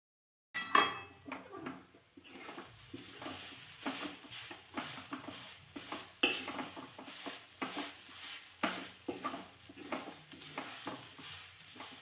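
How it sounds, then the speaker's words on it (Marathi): Boiled, peeled potato is mashed and mixed into a bowl by hand, producing soft, irregular squelches and light pats with an occasional faint knock against the bowl, quiet and close. "बटाटा यामध्ये चांगला मिक्स झाला पाहिजे, म्हणजे एकजीव झाला पाहिजे."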